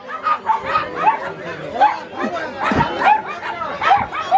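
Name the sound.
dogs barking and fighting at a dog market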